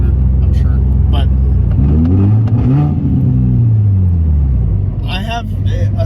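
A Subaru Forester with a loud engine drones and revs while driving, with a deep rumbling note rising and falling close by and a person talking over it.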